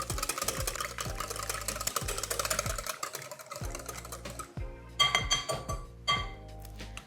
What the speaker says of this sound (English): let's give it a quick whisk